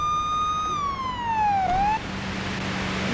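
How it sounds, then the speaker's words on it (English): A police car siren in a police simulator video game wails in one long tone that slides downward and rises, then cuts off, leaving a low engine hum beneath. "you want to keep your sirens on until you get out the vehicle"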